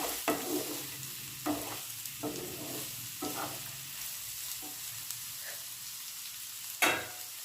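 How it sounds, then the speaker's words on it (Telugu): A spoon stirs capsicum egg curry in a pan, a few scraping strokes at irregular intervals over a faint sizzle, quiet and close with no voices. "ఇప్పుడు మూత తీసి అడుగంటకుండా కలుపుకోవాలి."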